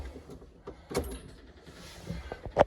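A small Iseki TA2 tractor engine cranks on a cold start, catches briefly and then stalls, heard in short uneven bursts with no talking.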